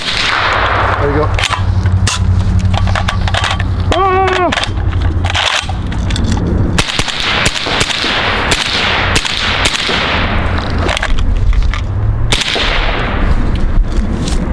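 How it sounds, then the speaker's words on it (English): Suppressed Zastava rifle firing supersonic ammunition, a rapid series of sharp cracks close by amid loud continuous background noise, with people talking between shots. "the little crack, obviously, you hear is these are supers"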